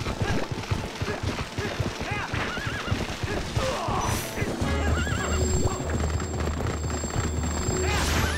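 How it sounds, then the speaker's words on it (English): A horse in the video game Zelda: Twilight Princess neighs loudly while its hooves clip-clop at a gallop, with game music and effects around it and someone talking. "Look how agile his horse is."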